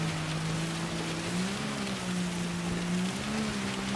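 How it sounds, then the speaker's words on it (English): Heavy rain in Gran Turismo 7 hisses as a dense, steady wash, with a low racing-car engine drone running underneath the whole time. "So you need this weather setup, this heavy rain, this is what you need."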